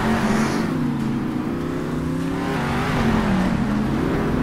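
Monster truck engines in the video game Monster Jam: Steel Titans rev loudly and continuously, a rough, droning roar that rises and dips in pitch.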